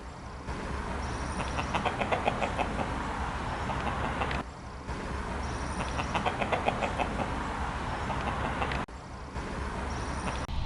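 Chickens that lay eggs sold on the south end of Lopez Island cluck in short repeated bursts over steady outdoor background noise, moderately close.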